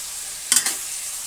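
Chayote tops sautéing in a pan give a steady faint sizzle, broken by a short burst of stirring scrapes, close up with no talking.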